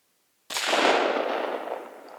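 A single 6.5 Creedmoor rifle shot with a Barnes LRX 127 grain bullet, fired over a chronograph outdoors: silence, then one sharp loud crack followed by a rolling echo that slowly fades.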